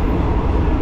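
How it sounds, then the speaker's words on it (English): A second-class sleeper train running between Chiang Mai and Bangkok gives off a loud, steady rumble of wheels and carriage noise, with no break in the sound. "So that is the train"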